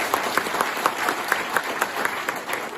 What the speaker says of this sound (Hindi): उनके लिए एक बार जोरदार तालियां चाहूंगा।